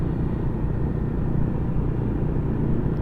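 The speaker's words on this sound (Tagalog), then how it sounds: "Napakaraming motor." Many motorcycles rumble together at a riders' community gathering in Region 8, a dense continuous engine drone with no clear break.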